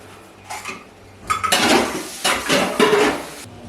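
Dishes and cutlery clatter and clink close by, with bursts of scraping and rinsing in uneven rhythm, no talking.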